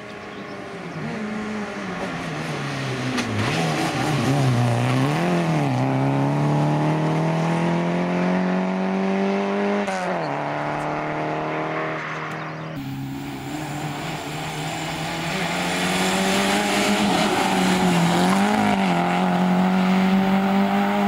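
A rally car races along a closed stage at a regional rally round in Jastrzębie-Zdrój, its engine note rising and falling through gear changes as it passes close by, loud and sustained with no talking.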